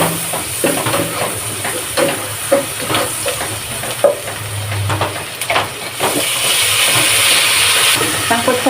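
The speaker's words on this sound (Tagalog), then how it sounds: "Sangkutsa lang natin." Garlic and onion sautéing in melted butter in a pot for macaroni soup, a steady close hiss and sizzle with scattered stirring scrapes throughout, growing a bit brighter toward the end.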